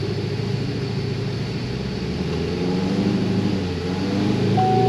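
A Cadillac CTS-V fitted with headers accelerates hard through its automatic upshifts, a loud, close engine drone with tonal exhaust notes rising and swelling toward the end.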